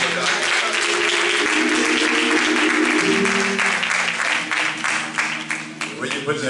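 Church congregation applauding at a pastor and wife's anniversary service, steady dense clapping from a crowd that stays loud throughout, with voices and music tones mixed underneath and a slight easing toward the end.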